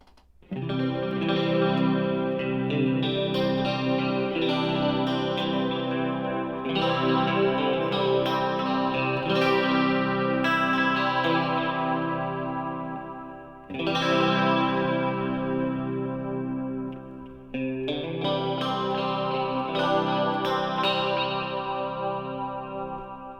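An electric guitar played through a Line 6 Helix preset with big reverb, big delay and noise gating sustains long chords that swell and decay, with fresh strums at a few points and no talking.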